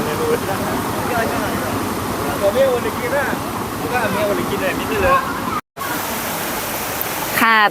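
A stream flows beside a rural cafe in Tak province, Thailand, while children splash and play in the water; steady broadband rushing dominates, with someone talking over it and a brief cut near the end.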